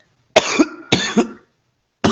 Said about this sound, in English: Got some kind of a cough just all of a sudden.